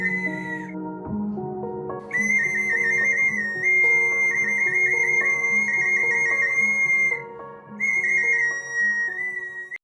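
A painted clay bird whistle toy, handmade by potters, blown in long sustained shrill tones with brief breaks, loud and close, with a lower tonal drone underneath.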